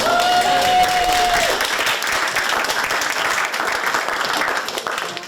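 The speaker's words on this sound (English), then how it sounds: "I have to give her a bigger round of applause than that." A gala audience on the opening night of a film festival breaks into a loud, full round of applause, with dense clapping that stays strong and then slowly tapers. A brief tonal whine sounds at the start.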